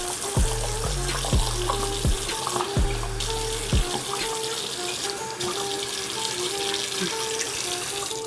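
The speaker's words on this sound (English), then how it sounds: "as you take the cool water, give it a nice rinse" Tap water runs into a bathroom sink basin for a rinse, a steady close stream broken by several sharp knocks and clunks early on.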